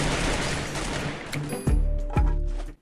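Gunfire in the video game Free Fire: dense rapid bursts at first, then two sharp, loud close shots with booming low ends, separated by about half a second.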